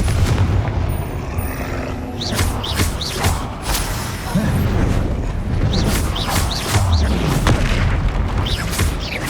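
Confringo blast-curse explosions in Hogwarts Legacy combat, a string of punchy booms and crackling bursts layered over constant spell and battle noise, fairly loud and repeating at an irregular pace.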